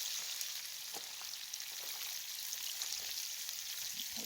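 Food cooking in leftover bacon grease crackles with a soft, steady sizzle and scattered light pops, fairly quiet and continuous with no talking.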